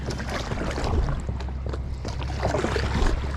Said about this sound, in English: I was trying to paddle this way